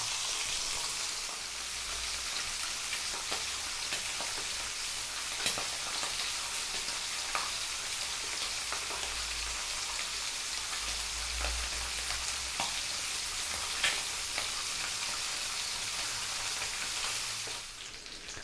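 Mackerel fillets frying in hot oil for a low-carb meal, giving a steady, dense sizzle with soft crackles and a few sharper pops throughout, close and fairly quiet, with no voices.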